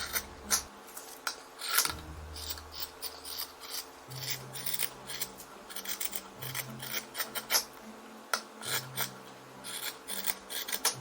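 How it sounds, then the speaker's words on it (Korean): Scissors cut through fabric laid out for a sleeveless dog tee, a steady series of close, rasping snips and rubbing strokes repeating in an irregular rhythm with no talking. "가위로 자릅니다."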